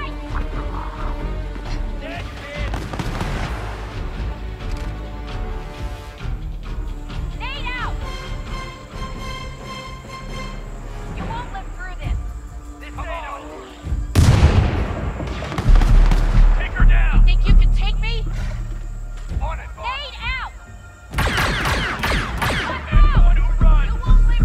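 Blaster gunfire in the Star Wars Outlaws game: repeated sharp bursts and booming shots in clustered volleys over busy combat sounds, with voices talking over parts of the action.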